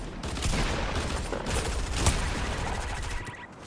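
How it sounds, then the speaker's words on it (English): Dual pistols firing in a video game, a dense unbroken burst of rapid shots that carries loudly from start to finish with a few heavier cracks standing out. "these dualies don't really sound very impressive, no?"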